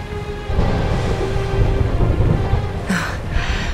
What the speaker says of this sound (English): Would you look at it thundering away out there?